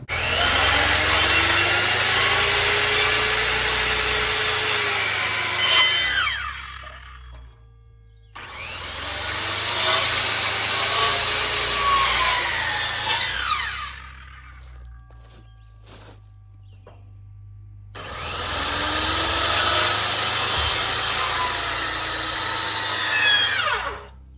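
A power saw cuts through wooden boards during off-grid cabin gate and railing construction, in three loud sustained cuts of several seconds each, separated by quieter pauses with faint clicks.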